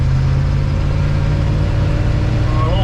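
An old C30 wrecker truck's engine runs at full throttle, loud and close, with a steady low droning hum. A voice briefly overlaps near the end.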